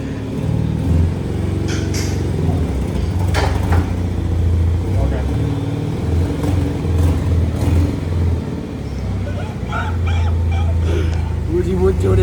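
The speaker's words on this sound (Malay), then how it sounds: "dengar ni, dengar bunyi exhaust aku macam mana?" Proton Wira turbo car with a leaking exhaust, its engine rumbling and revving low and close, rough and uneven, while people talk over it.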